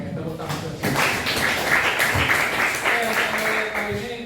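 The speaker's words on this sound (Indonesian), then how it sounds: "Oke, tepuk tangan." A class of students claps their hands together during a lesson, a dense burst of clapping that starts after a brief pause and carries on with voices and laughter mixed in.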